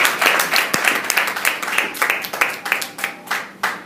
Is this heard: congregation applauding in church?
yes